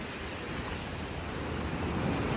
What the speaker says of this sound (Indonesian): Ombaknya berbuih-buih ya